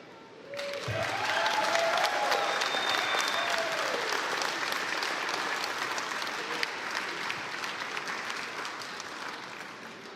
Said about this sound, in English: I hope you'll give her a big round of applause when I do.